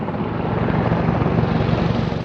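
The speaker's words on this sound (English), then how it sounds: "as the medevac helicopters continue to evacuate the wounded" Medevac helicopters fly overhead while evacuating the wounded from a valley under fire, a loud, steady rotor and engine roar that holds without a break.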